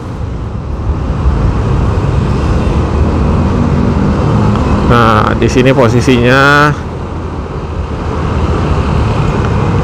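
An automatic scooter braking gently in heavy traffic, with a steady roar of engines and road noise throughout and someone speaking briefly over it.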